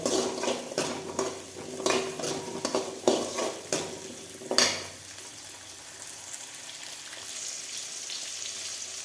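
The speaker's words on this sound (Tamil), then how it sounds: "இது நல்லா வெங்காயம் வணங்கணும் எண்ணெயிலேயே நல்லா வெந்துடணும் வெங்காயம்" Small onions sautéing in oil in a pan for Tamil chicken curry: a quick series of close scraping stirs over a gentle sizzle, then the stirring stops and only a quiet, steady frying hiss remains.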